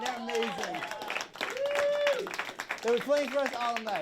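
Studio audience applause for a band on a live talk show, a steady broadband clatter under a voice speaking throughout.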